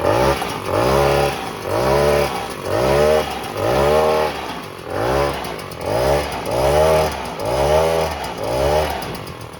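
A revived 1970s Concord XKE 50cc moped engine running close by, revved loudly about eight times in a steady buzzing rise-and-fall rhythm.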